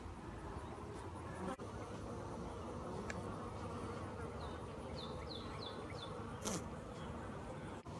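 A steady, dense buzz of many bees fills the air close by, with a few faint chirps and clicks over the constant drone.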